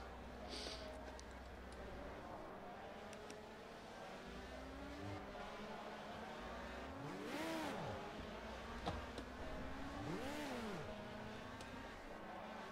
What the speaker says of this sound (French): Ça, c'est quand je trompe de vitesse